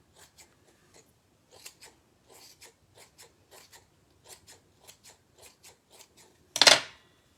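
Scissors trim muslin-like fabric in a run of short, crisp snips repeating at a steady pace, close and clear with no voices, ending in one louder rasping cut.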